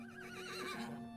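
A voice imitates a horse's neigh with one short, faint, wavering whinny lasting about a second, heard alone.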